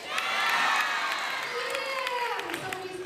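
An audience at a Somali Heritage Night event cheers, whoops and screams, a loud, dense wall of crowd noise with shrill individual shouts rising and falling throughout.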